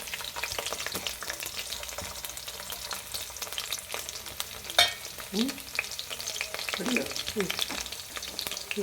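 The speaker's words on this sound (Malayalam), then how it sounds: "വെളിച്ചെണ്ണയ്ക്കകത്തോട്ട് വെളുത്തുള്ളി ഇട്ട് അതൊന്ന് നല്ലവണ്ണം ഇളക്കട്ടെ" Garlic sizzles and crackles in hot coconut oil while being stirred in a pan, a steady close frying hiss with occasional utensil scrapes and a faint voice in the background.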